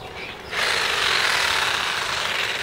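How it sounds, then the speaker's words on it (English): A Black & Decker power saw cuts into a plastic Rydlyme container. After a brief quieter start, a loud, harsh, continuous buzzing grind sets in and holds steady to the end. "This is a Black & Decker saw."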